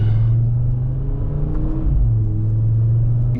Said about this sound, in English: Oh, I love driving this car.